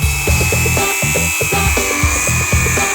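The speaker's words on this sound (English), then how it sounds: "maybe chop it with our trusty grinder here" An angle grinder cuts steel tubing for a homemade go kart, giving a loud, steady high whine overlaid with rapid, pulsing chatter as the disc bites into the metal.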